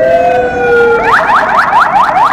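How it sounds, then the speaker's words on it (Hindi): A loud, close ambulance siren on a street in Bishkek, Kyrgyzstan, holds a steady tone, then switches to a rapid repeating rising yelp as it passes. "ये देखो एम्बुलेंस जा रही है"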